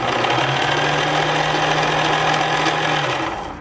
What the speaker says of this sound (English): I'm going to turn this on and just